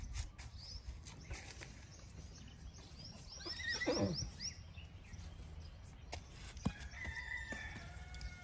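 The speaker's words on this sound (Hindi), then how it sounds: "जैसे घोड़ा है तो घोड़ी के पास लो तो ये जैसे हिनहिन आएगा" A horse whinnies once in a descending neigh, clear but at moderate distance, amid faint ambient noise, with a few other brief animal calls and clicks around it; no talking.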